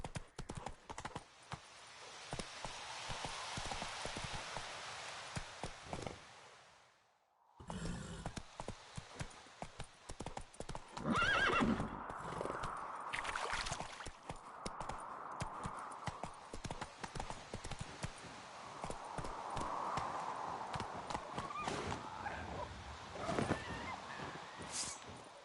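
Hoofbeats of the horse Roach galloping in The Witcher 3, a steady rapid clip-clop running almost throughout, with a short drop near seven seconds and occasional whinnies over game ambience.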